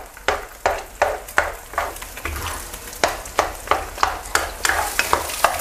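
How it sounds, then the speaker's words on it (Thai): Eggs stir-fried in a pan for a cabbage-and-egg dish, with a close, regular series of sharp spatula scrapes and knocks over a continuous frying sizzle and no talking. "ทำเหมือนไข่ขยี้ยี ๆเราจะผัดให้ไข่สุกเลยนะครับ"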